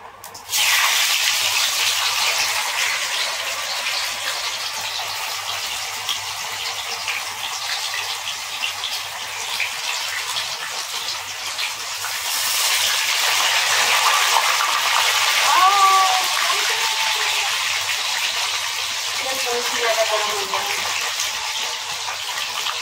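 Water gushes steadily into a cooking pot for boiling sattu litti, a continuous splashing pour lasting over twenty seconds that grows slightly fuller partway through. No talking is heard over it.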